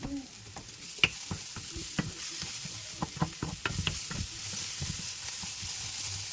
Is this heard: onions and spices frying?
yes